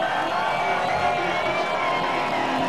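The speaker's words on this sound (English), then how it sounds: "And listen to this crowd." A large crowd at the New Hampshire NASCAR race cheers Mark Martin's win, a steady wash of distant roaring and whooping from the grandstands that holds evenly throughout.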